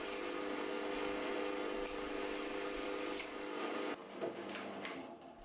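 A drill boring into a wooden pen blank gives a steady, humming grind with rubbing texture, then a change and a few sharp clicks near the end, fairly quiet with no talk.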